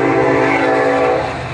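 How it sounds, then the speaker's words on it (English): A train rolls past close by, a loud, steady rumbling roar of rail cars filling the whole stretch, with no voices. "There's the train."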